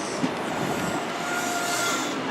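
A train at Plymouth station on the Great Western Main Line, giving a steady, close rolling rumble of wheels on rail with faint high metallic tones riding over it, and no voices.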